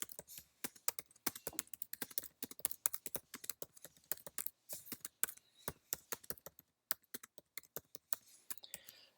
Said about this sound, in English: just simply type in your question right here